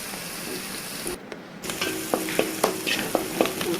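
Chopped onions and green chillies sizzle steadily in a hot pan, with a brief pause and then scattered spatula scrapes and pops as they're stirred.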